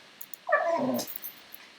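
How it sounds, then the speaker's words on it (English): A dog gives a short, high whimper that slides downward, close to the microphone and loud against an otherwise quiet room, followed by faint small sounds. "I see my dog is very upset."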